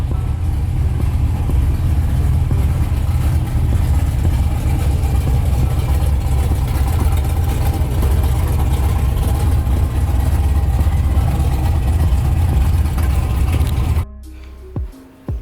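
A GMC Denali truck engine idles with a loud, close, steady low rumble for about fourteen seconds, then cuts off abruptly.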